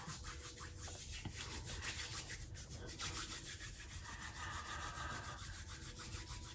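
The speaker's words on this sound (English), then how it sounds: "You can bring your hands together and warm them up. And warm them. You can rub them," Hands rubbed briskly together to warm them in a quiet setting, a steady close rasping friction with a rhythmic back-and-forth pulse throughout, no talking.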